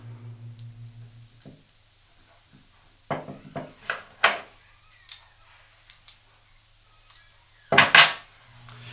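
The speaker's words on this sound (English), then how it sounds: "Now I can reinstall the drive gear and secure it with the nut." Small metal parts of a Makita angle grinder clink and tap as the drive gear and nut are refitted, a scattering of light separate knocks with one louder rattle near the end, close and quiet with no talk.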